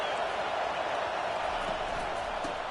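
Football stadium crowd roaring as the home defense is urged on, a broad, distant, continuous wall of cheering at steady volume with no clear voices standing out.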